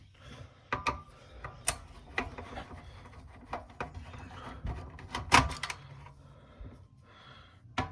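A Phillips screwdriver works screws out of a Nintendo NES console's casing during a 72-pin connector repair, giving sparse close ratcheting clicks, small plastic knocks and a couple of sharper taps, with no voices.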